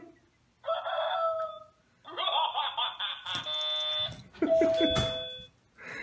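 A toy electronics lab kit plays a synthesized rooster crow, an electronic cock-a-doodle-doo with buzzy, tonal squawks. It repeats in several bursts with short gaps, loud and close, with no talking over it.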